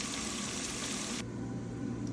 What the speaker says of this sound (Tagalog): Lagyan ko tubig.